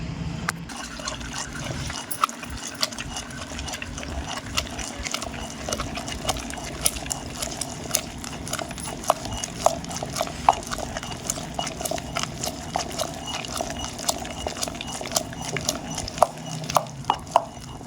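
Garlic and salt ground in a stone mortar for gongura chutney, a steady scraping, rubbing grind with repeated sharp taps and clicks, close and moderately loud, with faint voice at times.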